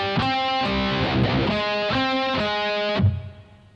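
Distorted electric guitar power chords from a riff, played in short repeated chugging bursts at an even rhythm, then a final strike that decays.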